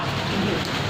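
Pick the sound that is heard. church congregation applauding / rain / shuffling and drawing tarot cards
rain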